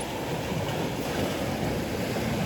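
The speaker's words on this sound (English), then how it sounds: "when I hear the waves crash, I feel like they're listening" Ocean waves crash and wash continuously at a shoreline, a dense, loud roar of surf with wind buffeting the microphone and no talk.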